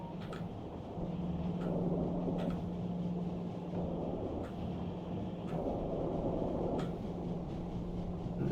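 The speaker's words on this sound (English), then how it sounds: "The train is gonna come anyway now." A train rumbles in steadily in the game Factorio, a continuous low mechanical drone with a sustained hum and periodic faint clicks, loud and alone without talk.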